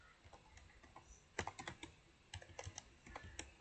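Keys on a laptop keyboard clack in uneven bursts, light and close, with short pauses between runs of taps and a few sharper strokes.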